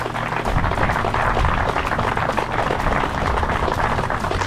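Dense, sustained audience applause at a fishing competition awards ceremony, Riga Bass 2024, filling the whole stretch at steady loudness with no talk over it.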